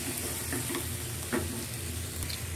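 Octopus stir-frying with sa tế chili sauce in a hot pan, giving a loud, continuous close sizzle with a few faint clinks and stirring scrapes.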